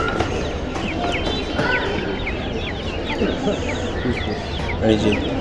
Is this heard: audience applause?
no